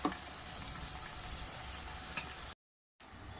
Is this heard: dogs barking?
no